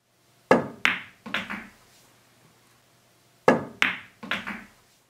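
A pool cue strikes the cue ball in an elevated-cue multiple-hit shot, heard as two close bursts of sharp clacks and knocks, each a quick cluster of three or four hits, played twice with a pause between, close and crisp.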